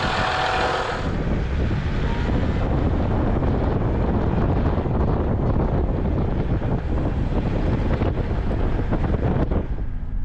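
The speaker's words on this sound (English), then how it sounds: "It's still windy" Strong wind at Cape York buffets the microphone in a continuous loud roar, with no voices, lasting the whole stretch.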